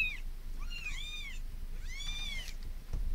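Several kitten meows, high and arching, arrive in three or four quick calls over steady low background noise, close and clear with no talking.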